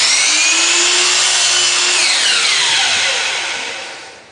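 A miter saw makes a compound cut through wood with bevel and miter both at 22.5 degrees: a loud, steady high whine of the spinning blade alone, dropping in pitch as the motor winds down at the end.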